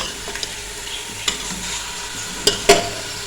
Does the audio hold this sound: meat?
yes